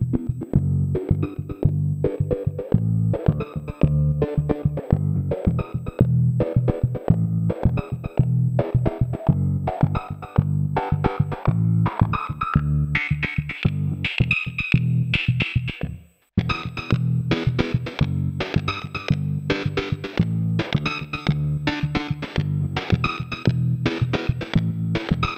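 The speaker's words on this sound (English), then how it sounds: "Low pass filter only goes to the guitar sound and not the bass sound." Electric guitar played through a low-pass filter pedal alongside bass on a pedalboard, a rapid rhythmic pulsing riff with shifting muffled tone, loud and steady with one brief dropout midway.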